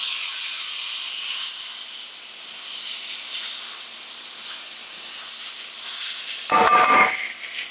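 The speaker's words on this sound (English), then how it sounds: "So pretty much you're just pan frying everything until it's nicely cooked." Vegetables pan fry for yaki udon in a continuous close sizzle that swells and fades, then a brief louder clatter and burst of hissing near the end.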